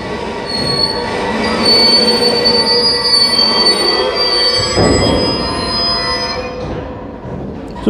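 Wheels of a freight train carrying liquid-filled tank wagons squeal loudly and continuously as it brakes into Braunschweig Hauptbahnhof at night, with the high metallic screech sustained over the rumble of rolling cars.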